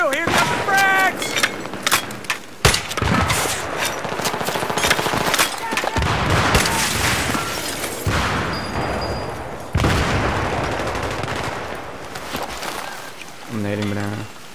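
Frag grenades and heavy gunfire crash through a Battlefield 3 rush match, with dense repeated bursts and booms running throughout while players talk over the chaos.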